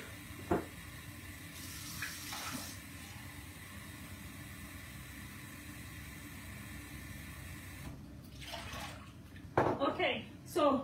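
Water runs from a tap for cooking pilau rice, a steady continuous rush held close and fairly loud for most of the stretch before it stops, then a few kitchen knocks and clatters.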